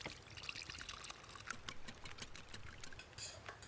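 Water is poured out in the survival game The Long Dark: a faint, continuous trickling splash with small irregular spatters, heard alone without talk.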